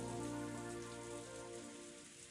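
Steady rain falling as a sound effect in the Umineko visual novel, a soft, continuous wash of drizzle that stays quiet and even before gently fading.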